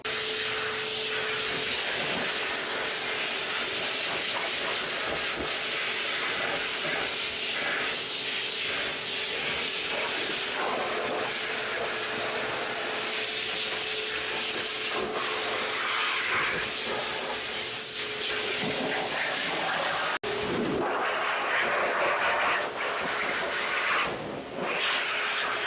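A pet dryer blasts air over a mixed breed dog during grooming, a loud continuous whooshing hiss with a steady whine, briefly cutting out and restarting near the end.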